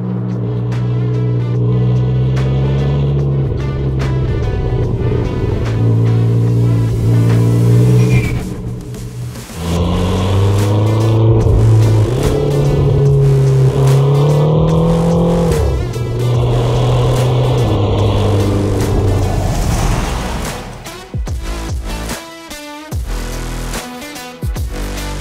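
McLaren GT mid-engine supercar revving, a loud close engine note that climbs and falls through several rising sweeps before dropping to a rougher idle with rumbling bursts near the end.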